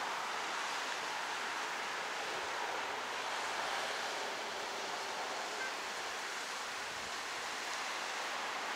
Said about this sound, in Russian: Бескрайнее красивое море.